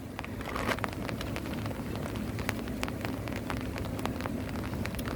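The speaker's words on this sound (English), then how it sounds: "It is raining" Steady morning rain falling outdoors, a dense continuous hiss with scattered sharper drips and patters, fairly loud and even throughout.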